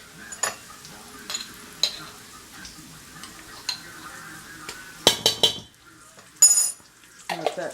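Onions and garlic frying in bacon grease in a pot for clam chowder, with a quiet sizzle beneath repeated utensil clinks and scrapes against the pan, close and intermittent.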